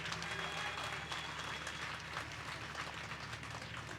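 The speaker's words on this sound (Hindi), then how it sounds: "इसकी मायूसी सिर्फ और सिर्फ आपकी ज़ोरदार तालियां दूर कर सकती हैं।" An audience at a mushaira poetry gathering in Lucknow applauds steadily, a dense wash of clapping hands that holds at an even level throughout.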